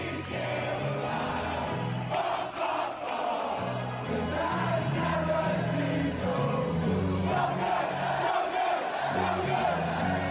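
Stadium crowd at a Red Sox baseball game sings a song en masse, a sustained, loud, roaring chorus of voices that continues for about ten seconds.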